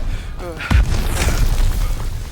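A breaching charge detonates in a video game battle with a sharp boom and a sustained rumbling roar that fills the rest of the moment. Voices are heard beforehand.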